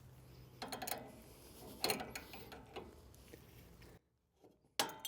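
A wrench forces a worn ball joint loose on a Toyota Tacoma, giving scattered metallic clicks, ratcheting and creaks under strain, a louder clank near two seconds, a brief pause, then a sharp final knock, close and without speech.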